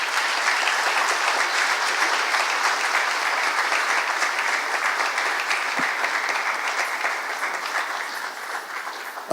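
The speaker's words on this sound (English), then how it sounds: "can we have a more generous applause for our chairman, please?" A conference audience at the Innovention Series 2015 event applauds the chairman in a long, even burst of clapping that fills the room, then thins and fades toward the end.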